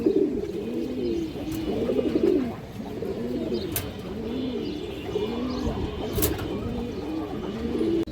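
A male pigeon of an old Bagha breed with boot beak and red markings coos repeatedly in deep rhythmic rolling phrases, close and clear, with a couple of sharp clicks in the background.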